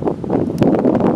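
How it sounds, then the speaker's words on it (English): Gusty wind buffets the microphone in a loud, rumbling rush that swells briefly. "I know it's going to get windy now"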